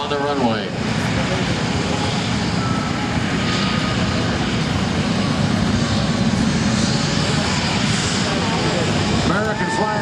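A C-17 military transport jet flies a demonstration at the 2017 New York Air Show, a loud sustained engine roar filling the whole stretch, with a public-address voice at the start and end.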